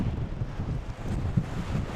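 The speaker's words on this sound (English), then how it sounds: "it's way too windy" Strong wind on the Mull of Kintyre, Scotland, buffets the microphone in a continuous low roar, gusting unevenly with no voices.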